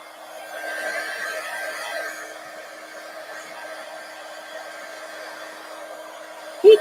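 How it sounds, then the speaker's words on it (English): A heat gun blows steadily on altered atlas pages, making a soft, continuous airy hiss that stays close and even throughout, with a brief clunk at the very end. "Heat gun works pretty quick, though."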